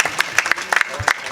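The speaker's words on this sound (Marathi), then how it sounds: "वाजवा टाळी" Audience hands clapping at a Marathi kirtan devotional gathering in Pimprala: a short, fairly loud burst of scattered, uneven claps with irregular sharp strikes, with some voice-like sound mixed underneath.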